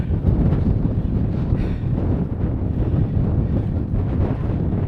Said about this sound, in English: It's suddenly gone very windy,